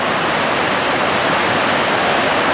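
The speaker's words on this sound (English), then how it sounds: "finally met up with the creek again above that past waterfall" Mountain creek rushing near a waterfall on a hike at Lake Louise, a steady loud broadband roar of flowing water close by, constant and unbroken, with no voices.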